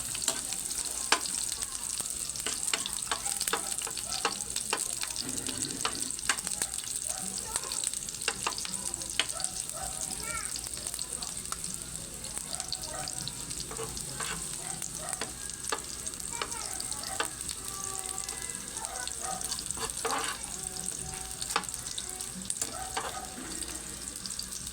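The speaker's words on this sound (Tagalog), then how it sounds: "Unahin po muna natin ng sibuyas. Medyo papulahin lang po natin ng konti." Onion sautés in a pan for pork caldereta, a steady bright sizzle with frequent spatula scrapes and taps throughout, fairly quiet and continuous.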